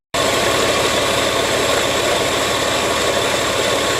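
A Porsche 911 996 Carrera 4S engine, just back running after a coolant leak repair, starts abruptly and settles into a steady, close, rumbling idle with no talking.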